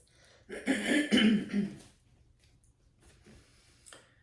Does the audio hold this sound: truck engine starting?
no